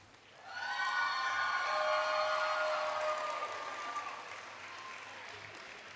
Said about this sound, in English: let's give another round of applause for our 2024 graduates